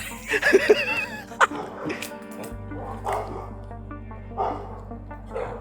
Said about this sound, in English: Someone's got dogs.